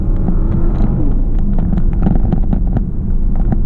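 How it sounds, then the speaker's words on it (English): A Porsche Panamera Turbo S E-Hybrid V8 gives a loud, steady low rumble with irregular popping exhaust burbles throughout, heard close from the cabin. "You hear all the exhaust burbles in the back."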